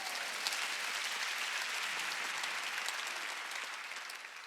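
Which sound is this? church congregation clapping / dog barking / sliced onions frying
church congregation clapping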